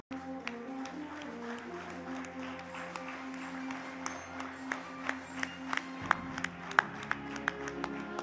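An audience at an awards ceremony claps steadily, with sharper individual claps standing out. A low sustained musical tone plays underneath and cuts off partway through.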